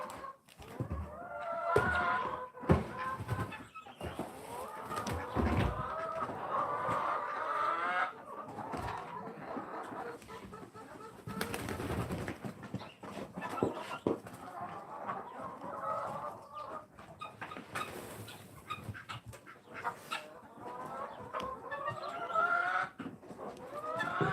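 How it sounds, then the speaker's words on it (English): Chickens cluck and squawk steadily in a coop, a busy flock heard close by, with occasional louder calls breaking through the continuous chatter. "Come on, chicken."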